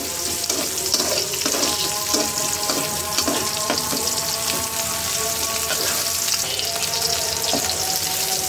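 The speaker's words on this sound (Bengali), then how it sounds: "কাঁচা মরিচ আর পেঁয়াজটা অনেক সুন্দর করে ভেজে" Green chilies and onions frying in oil in a pan, a loud continuous sizzle with scattered crackles and occasional stirring scrapes, steady throughout with no voices.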